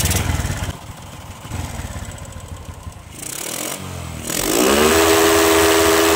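Small gasoline engine revved up after a carburetor adjustment, running loud and close with a steady buzzing drone that rises and holds at higher speed toward the end.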